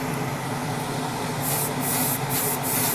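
Short bursts of spray primer are misted onto 1:12 Tamiya Repsol Honda RC211V model motorcycle fairings, hissing close and loud several times over a steady background hum.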